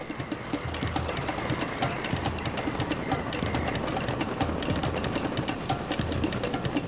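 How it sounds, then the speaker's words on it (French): A crop-spraying helicopter flies figure-eights over a banana plantation on Basse-Terre, Guadeloupe, its rotor making a steady, dense, rapid chopping roar throughout. "c'est un hélicoptère qui fait des 8 dans le ciel."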